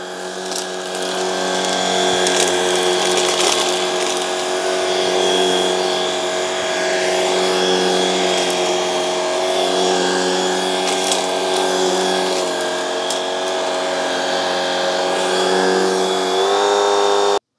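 A Shark cordless stick vacuum runs steadily on its second, faster speed, giving a loud, even motor whine that continues unbroken throughout.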